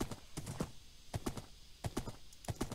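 Horse hooves in Minecraft: soft, quick clip-clop steps in irregular pairs and clusters, fairly quiet, with no talking over them.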